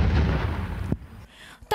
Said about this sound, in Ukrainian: Граната полетіла.